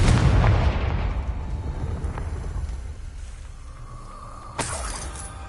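In a wizard video game, a Confringo fire spell explodes with a loud crashing boom and shattering debris. A second, sharper burst follows a few seconds later.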